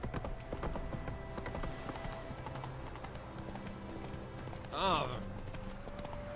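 Galloping hooves of the horse Roach in The Witcher 3 video game, a quick steady clip-clop beat under game music, with a brief louder whinny-like burst near the end and a short spoken exclamation.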